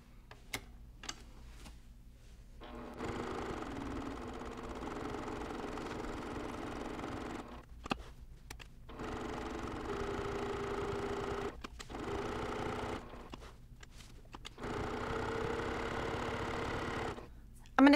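A sewing machine stitching the seam of a cross stitch pillow runs in several steady bursts separated by short pauses, close and fairly quiet, with a few clicks between runs.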